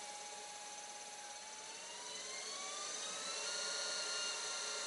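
A Record Power Coronet Herald wood lathe spins at 1000 rpm, giving a faint, smooth, steady whirring hum with a slowly rising whine, continuous and quiet throughout with no voices.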